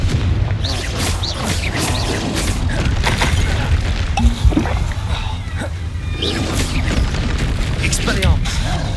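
Confringo fire-blast spells in Hogwarts Legacy detonating repeatedly in a dense duel, booming impacts layered over constant combat noise with a voice calling out spells throughout.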